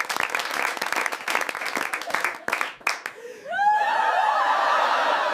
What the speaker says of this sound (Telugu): ఆడియన్స్, మనోడికి క్లాప్స్